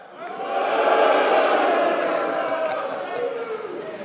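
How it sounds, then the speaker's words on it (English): Crowd cheering and shouting at a political rally in Stoke, swelling quickly to a loud sustained roar that holds for several seconds before easing slightly. "It's funny, that cheer is always strongest in Labour-held seats, I've noticed."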